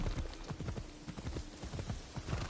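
Horse hooves pound in a steady galloping clip-clop rhythm in Assassin's Creed Shadows, close and continuous with no talk over them.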